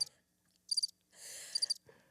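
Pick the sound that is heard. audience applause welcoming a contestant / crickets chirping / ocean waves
crickets chirping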